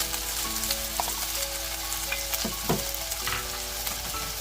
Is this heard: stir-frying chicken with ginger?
yes